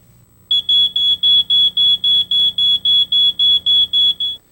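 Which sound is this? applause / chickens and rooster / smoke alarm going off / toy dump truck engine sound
smoke alarm going off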